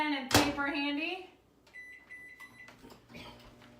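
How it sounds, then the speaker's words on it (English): A kitchen microwave oven is set going for a quick heat: a brief voice, then a short run of electronic keypad beeps and tones before the oven settles into a faint hum. "Let me throw this in the microwave real quick."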